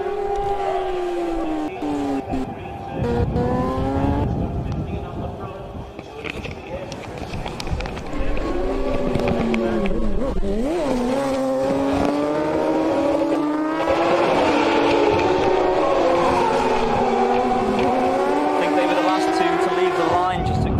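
Race motorcycles at the Manx Grand Prix Senior Race howl past on the road circuit, high revving engine whines sweeping up and down in pitch, loud and close, while a commentator talks over them.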